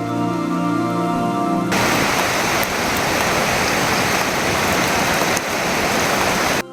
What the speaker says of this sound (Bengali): ছাতা নিয়ে নেমে গেলাম বৃষ্টিতে